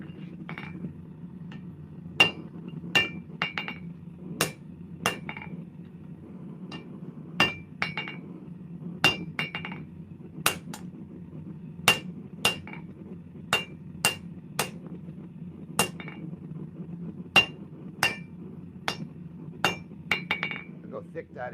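Hammer blows land on a piece of steel being shaped into a chopper blade, bright clinking strikes arriving in an uneven rhythm, near and distinct over a low background hum.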